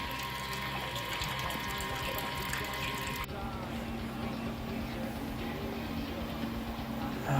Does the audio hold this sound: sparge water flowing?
yes